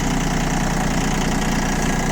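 ISEKI TA317 Japanese snow-clearing tractor with bucket, crawling in a low gear: a steady, loud diesel drone with a rough, knocking throb that holds unchanged throughout, with no voices.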